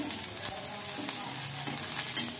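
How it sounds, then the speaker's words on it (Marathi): Cluster beans with cumin and green chillies frying in a pan, a close, even hiss of oil with a couple of faint spatula scrapes over a brief stretch, no talking. "आणि आता परत परतायचं चांगलं।"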